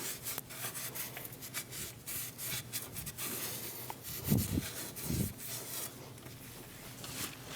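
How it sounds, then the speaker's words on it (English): Rag wiping dirt and grease from the upper ball joint area of a 2001-2006 Chevrolet Silverado 2500 HD, soft close rubbing and scuffing strokes in uneven bursts, fairly quiet. "Using a rag, we're going to wipe down the area. Just going to get rid of all the dirt and grease."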